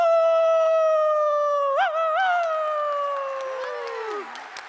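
A student's voice imitating a howl, one long sustained howl that starts loud, wavers in the middle and slowly falls away, close up with a crowd faintly in the background.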